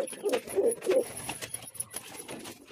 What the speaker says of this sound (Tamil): இந்த இதில் இருக்கிற எல்லா புறாவுமே திறந்து விட்ருவேன்